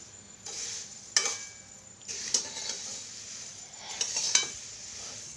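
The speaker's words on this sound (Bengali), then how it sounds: "এটা ভালো করে নাড়াচাড়া করে নিতে হবে, মানে মিশিয়ে নিতে হবে মুড়ি শুকনো লঙ্কাটা ভালো করে তেলের মধ্যে" Puffed rice and dried chilli are stirred through hot oil with whole cumin in a pan, giving a few soft scrapes and light clinks over a faint, quiet sizzle.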